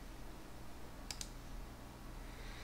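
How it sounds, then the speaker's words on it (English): A computer mouse gives two quick, faint clicks close together against a quiet background hum. "we'll click Next"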